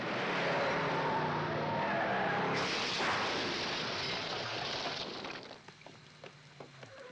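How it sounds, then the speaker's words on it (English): Film car chase with cars skidding and smashing into each other: a loud sustained engine and tire roar, then a sudden crashing burst that tapers into scattered debris clatter and quieter impacts. "very raw and impactful with the cars smashing into each other"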